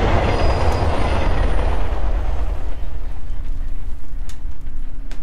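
A subway train passes overhead in the video game Hitman Absolution: a heavy, loud rumble with faint squeal that fades away over a few seconds into a quiet hum, with a couple of soft clicks near the end.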